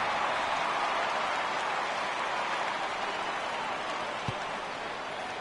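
In a baseball video game set at Dodgers Stadium, rain falls as a continuous even hiss, steady and moderately loud throughout, with one faint low thump near the end.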